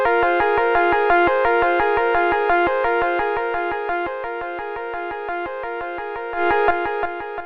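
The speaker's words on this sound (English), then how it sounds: "I'm going to solo this delay chain and we'll hear what it sounds like now." A plucked melodic loop rings through a soloed, shimmering Ableton delay chain, echoes repeating in a steady rhythm and slowly fading quieter, with no voices.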